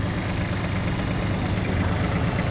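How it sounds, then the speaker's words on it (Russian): A Kubota Aste A175 diesel mini tractor idles in freezing winter cold, a steady even engine drone with dense low rumble, close and continuous for a few seconds without speech. "Работает тракторок ровно."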